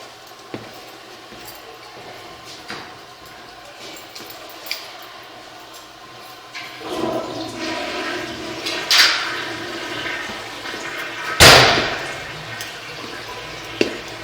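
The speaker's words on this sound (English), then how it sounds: "There's where the toilets come in, looks like. Let me flush them again." Toilets flushed in a building at 4510 Floral Ave, heard as a quiet background hiss, then a swelling rush of water from about seven seconds on, with a loud gurgling surge near the end, fairly close and without talk.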